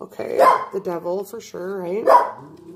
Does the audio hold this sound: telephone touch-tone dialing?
no